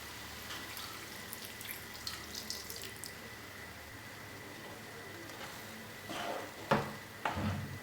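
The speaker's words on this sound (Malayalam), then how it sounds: "നമുക്കിതിലേക്ക് ഒരു 1/4 കപ്പ് വെള്ളം കൂടി ചേർക്കാം." Water is poured into a pan of paneer and broccoli masala, a faint steady running-water sound with a few drips and light clatters near the end, close and quiet, with no voices.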